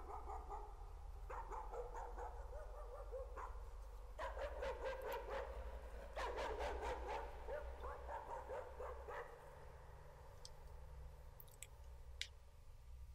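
In the horror video game Layers of Fear, a dog barks in rapid bursts over a constant low droning ambience, mid-distance and fairly faint.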